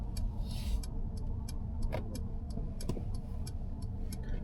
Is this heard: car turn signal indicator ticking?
yes